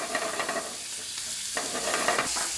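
Mushrooms fry in oil in a pan over low heat with a steady sizzle and repeated light stirring scrapes, close and unbroken, with no voices.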